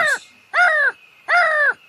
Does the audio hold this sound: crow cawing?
yes